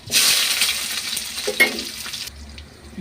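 Onions sautéing in hot oil in a kadai with mustard seeds, a loud broadband sizzle for about two seconds with a few stirring scrapes, then dropping to a quieter low hum.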